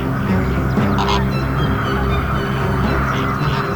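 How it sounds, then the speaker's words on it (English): A dense, starving horde of young flamingo chicks clamors within a crowded colony, a loud, unbroken din of overlapping honking cries up close, with no talk. "each adult must find his own chick in the middle of a starving, clamoring horde of young flamingos"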